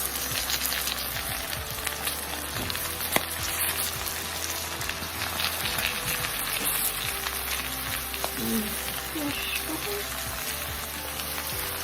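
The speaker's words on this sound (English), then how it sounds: "ensure that the skin of the pepper is in touch with the pan to create that toasted caramelization on the skin." Bell peppers toast skin-down in a hot pan with a steady, dense sizzle and faint crackles throughout, a few light clicks of the pan heard near the start and again later.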